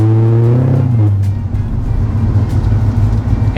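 A supercharged 2012 Corvette Grand Sport 4LT with a Lingenfelter engine accelerates hard, its loud close engine note rising and shifting through gears.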